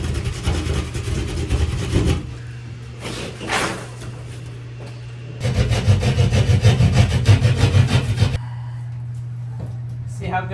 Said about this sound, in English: I couldn't find the right saw, but a Sawzall blade works just fine